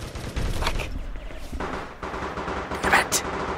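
Gunfire from the online shooter APB Reloaded, a few sharp cracks and short bursts close by, mixed with other in-game noise and some voice.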